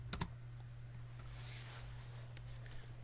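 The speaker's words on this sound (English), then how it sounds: "What I'm going to say, I'm going to type Y for OK." A computer keyboard typed on at a desk: a quick pair of sharp clicks, then a few faint scattered taps over a steady low electrical hum.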